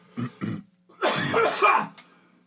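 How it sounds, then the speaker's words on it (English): Two quick throaty coughs, then a longer rough burst of coughing and throat clearing, close and fairly loud. "now I got a cough"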